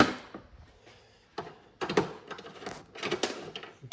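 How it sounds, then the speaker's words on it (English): Small 8mm screws being backed out of a 2016 Range Rover Sport front bumper by hand, with quiet clicks and scraping taps coming in short irregular bursts and a few soft pauses between them. "now I'm just removing these little 8mm screws"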